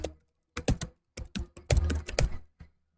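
Crisp, close keystrokes on a computer keyboard come in quick irregular bursts separated by short pauses, with no talk.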